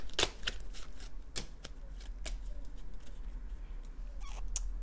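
Tarot cards being shuffled by hand, a run of quick papery riffles and slaps at close range, fairly quiet, with no talking.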